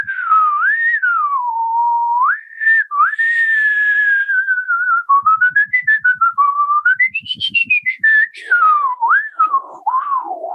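A person whistles a slow, wavering melody on the inhale without any instrument, the pitch gliding up and down, with soft breathy catches and brief fluttering trills partway through, close and alone.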